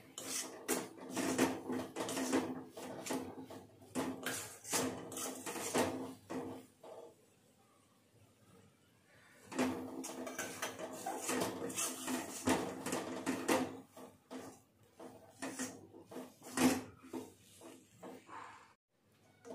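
Besan stirred a little at a time into fenugreek leaves in a pan gives repeated soft scraping and clinking strokes in uneven bursts, pausing briefly midway, with someone talking over much of it.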